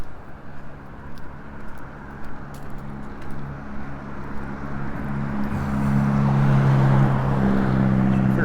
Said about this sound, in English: It's just that little car. I thought it was a bus. Clearly a iffy muffler.